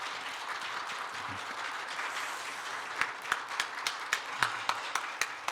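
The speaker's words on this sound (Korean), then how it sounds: "여러분 박수 한번 쳐주시기 바랍니다" Church congregation at a Wednesday evening revival service applauding, a soft wash of many clapping hands that gives way to a few slower, distinct claps near the end, with no talking.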